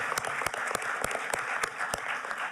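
Applause from a conference audience at the second meeting of the Conference of Parties of the Escazú Agreement, with scattered hands clapping in an irregular, moderately paced rhythm, fairly distant in a large room.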